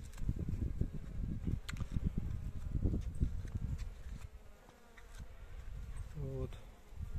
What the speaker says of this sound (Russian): пчелы сюда прилетают откуда-то